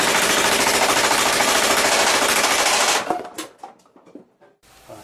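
A remote-operated paintball robot fires pepper balls in a rapid, rattling automatic burst lasting about three seconds. A few scattered clicks and mechanical knocks follow, close and loud.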